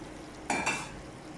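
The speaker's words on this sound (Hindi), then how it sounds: "इनको उबाल लिया मैंने और मसाले में डाल दिया है।" Boiled potatoes dropped into frying masala for khatay aloo, a brief burst of sizzling and spoon scraping in a pan against a quiet background.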